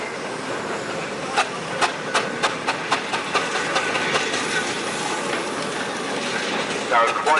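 The restored Burrell steam traction engine Patricia runs at the Moynalty 2023 steam show, puffing out a steady series of sharp exhaust chuffs over a hissing background while someone talks.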